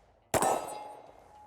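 A single sharp metallic crack rings out from a Smith & Wesson M&P Shield X Carry Comp pistol, heard at a distance as a lone loud report with a short, ringing decay and no talk.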